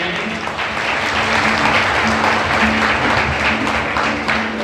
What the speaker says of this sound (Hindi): बजाएं, जोरदार तालियां बजाएंगे।